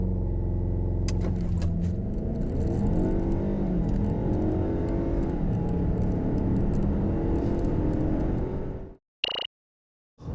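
A Lincoln Corsair with a 2-liter turbo engine accelerates hard, a loud, sustained engine roar rising through the gears with cabin rumble, then cutting off abruptly near the end.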